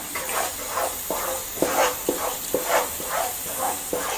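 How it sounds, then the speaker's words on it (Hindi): Palak paneer masala fries on full flame as a spoon stirs and scrapes the pan in regular strokes about twice a second, over a constant close sizzle and hiss. "अब गैस फुल कर लेंगे और इसको चलाते रहेंगे।"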